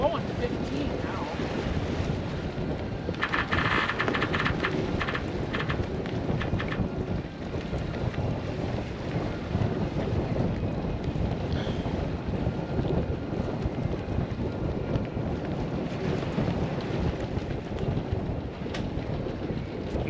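Strong wind of about 15 knots roars steadily across the microphone aboard a sailing boat, mixed with wash and splashing water, a constant loud rush with no pauses.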